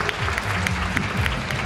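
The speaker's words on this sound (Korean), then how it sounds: "여러분 축하의 박수 부탁드리고요" Applause at a Korean fashion award ceremony as a special style prize is presented, steady clapping from an audience filling the hall, with a low voice underneath.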